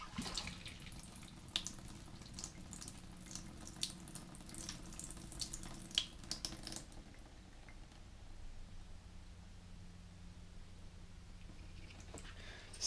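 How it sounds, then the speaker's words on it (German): Water sloshes and swirls inside a sprouting jar being shaken with its lid closed, a faint, continuous wet agitation that quiets into a softer trickle partway through. "Nochmal schön schütteln."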